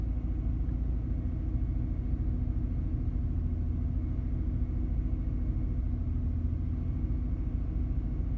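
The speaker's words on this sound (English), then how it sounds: "I got the car at 1800 RPM right now." Ford Taurus with a Vulcan 3.0 V6 held steady at 1800 RPM, a continuous low engine rumble and hum at constant pitch, moderately loud and unchanging, no one speaking.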